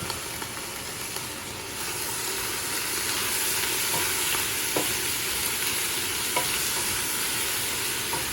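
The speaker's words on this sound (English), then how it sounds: "we'll go ahead and give this a good stir" A stew of three meats and vegetables with Asian spice sizzles and hisses steadily in a pot, with faint scrapes and clinks from stirring. The sound is constant, moderately loud and close, with no speech.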